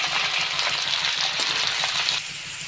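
Diced potatoes, beans and carrots fry in a pan with a continuous, close sizzle that stays steady and softens slightly near the end.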